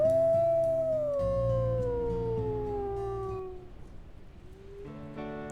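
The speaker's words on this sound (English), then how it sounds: "I think Kindle has the really deep howl" A wolf in a wildfire-themed video game lets out a long, loud, deep howl that slowly falls in pitch, with a second howl joining in, followed by a brief rising cry at the end against a low steady background.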